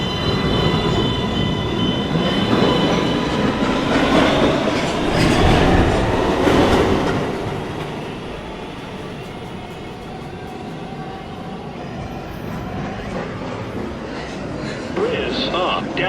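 A New York subway 2 train, an R262, rolls into a station and pulls out again, loud and close, with clattering wheels and rail squeal. Recorded platform announcements play over the rumble before it fades as the train departs.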